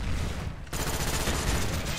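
Dense, continuous gunfire from Call of Duty: Black Ops multiplayer, a sustained automatic volley that drops briefly and then resumes at full loudness, close and heavy with overlapping shots.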